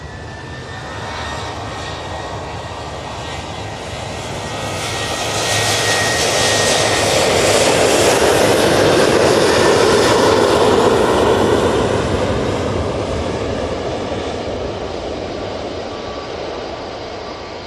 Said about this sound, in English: Next out will be this Ryanair off to Alicante. It's starting its roll